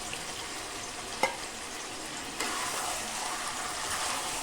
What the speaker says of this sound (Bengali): আলুর সাথে মাংসের সাথে মশলার সাথে একসাথে ভালো করে কষিয়ে নেব।